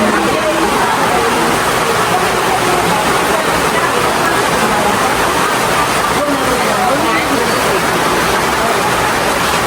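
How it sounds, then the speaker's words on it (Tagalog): A dense, steady roar of heavy rain pours without pause, with faint voices under the noise. "lakas po ng ulan"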